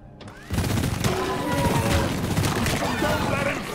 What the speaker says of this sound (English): Goofy minigun.